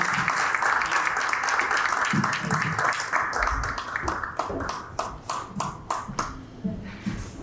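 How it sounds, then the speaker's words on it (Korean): Audience applause at a church anniversary ceremony, dense clapping that thins into scattered individual claps toward the end, with some shuffling and background voices underneath. "여러분 박수로 모시겠습니다"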